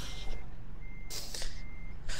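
A truck in the video game American Truck Simulator reverses, its steady, clear reversing beeps repeating over a low engine rumble, with an air-brake hiss and no talking.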